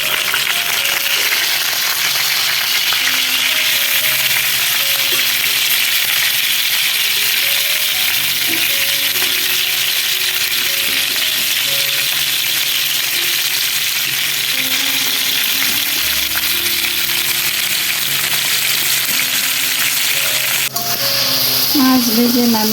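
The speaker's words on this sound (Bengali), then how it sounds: "আর এইদিকে বড় একটা তেলাপিয়া মাছ ভেজে নিচ্ছি।" A large tilapia fish fries in hot oil in a home kitchen, giving a steady, loud, close sizzle that runs unbroken for the whole stretch, with faint background sounds underneath.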